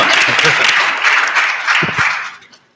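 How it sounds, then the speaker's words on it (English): Audience applause at an evening student engagement conference panel, a dense wash of clapping that holds steady for over two seconds before tapering off near the end. "Now we clap."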